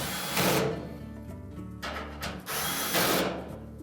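A power drill tightens screws on a Whirlpool dryer, with three loud whirring bursts separated by short pauses, each rising and falling as the screw seats, recorded close up.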